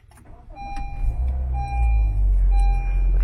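A Honda HR-V engine starts after its push-start button is pressed: a low rumble swells about a second in and settles into an idle, while short electronic chime tones sound on and off.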